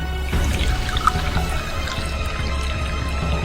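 Water is sprinkled onto a small mound of soil holding a seed, giving a continuous close patter and trickle of droplets that runs for a few seconds.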